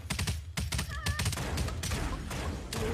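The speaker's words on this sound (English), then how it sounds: "Where am I getting shot from?" Rapid bursts of gunfire in the online game Anarchy 77, a dense fusillade of overlapping shots and cracks filling the clip with little pause, loud and close.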